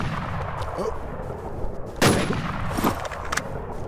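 Gunfire in the video game Valorant, a single sharp loud shot around the middle and a smaller burst after it, over a constant game background hum, with no talk.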